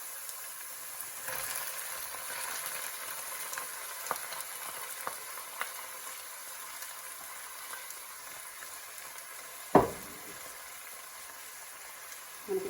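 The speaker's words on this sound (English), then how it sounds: "I'm going to add in the onions." Onions for a lamb keema samosa filling fry in a pan with a soft, steady sizzle, faint and close, broken by occasional stirring scrapes and one sharper clatter near the end.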